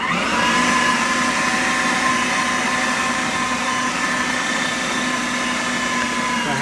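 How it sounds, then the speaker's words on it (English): An electric meat grinder grinding pork fat runs with a steady, loud motor whine and even mechanical hum close by, continuous throughout with no talk. "This is my grinder, because it's kind of noisy, but I'll turn it on."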